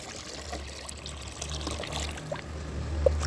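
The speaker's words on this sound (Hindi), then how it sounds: "ये आधा लीटर छाछ को 8 लीटर पानी में, देखिए इस तरह से हम ये पानी में या इस तरह से ये मिक्स कर देंगे।" Half a litre of buttermilk poured into eight litres of water and stirred in, a soft trickling and sloshing of liquid with faint splashes, quiet and close.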